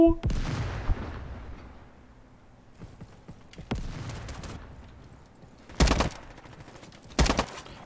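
Gunshots in the Roblox shooter Frontlines: a loud opening blast followed by sparse single shots, then two sharp, close reports near the end, each with a short decaying tail.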